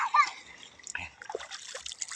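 People bathing in a river make light, scattered splashes and water sloshing nearby, with voices talking over the water sounds.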